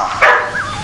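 A single short dog bark sounds close and loud, a quick yelping note that tails off into a brief whine.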